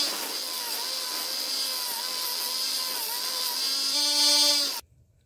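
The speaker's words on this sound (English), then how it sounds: "Time to start grinding in the bevels." A blade being ground to form the bevels of a survival knife gives a loud, steady, whining grind that runs on without pause, swells slightly near the end, then cuts off abruptly.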